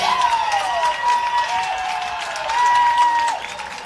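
A crowd cheers and applauds after a late goal in an ultimate frisbee game, with sustained noise throughout, a bright whistle-like tone, and a commentator talking over it.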